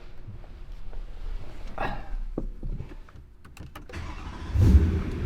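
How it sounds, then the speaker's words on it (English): A BMW E90 M3 with a valve-controlled Bomez exhaust starts up: a short crank catches and the engine flares into a loud, close rev, then settles into a rumbling idle. "If you turn on the car"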